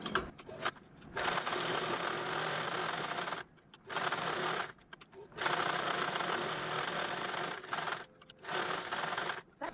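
A sewing machine stitching fabric for a zipless jewellery box runs in loud, close bursts of rapid mechanical whirring, with several short pauses between the runs.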